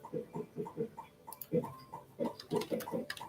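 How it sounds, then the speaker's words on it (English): Minecraft video game animal sounds, faint grunting oinks in quick irregular bursts, quiet in the background. "You can hear the Minecraft sounds in the background."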